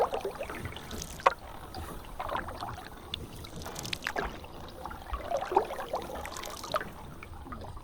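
A mokoro dugout canoe glides through the quiet Okavango Delta in Botswana: soft, close water trickles and light paddle splashes come in gentle bursts against a calm, faint background, with no voices.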